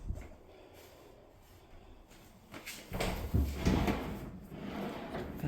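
Drawers fitted beneath a washer and dryer in a house laundry room slide open or shut, a soft rumbling scrape that swells midway and lingers faintly, with no voices.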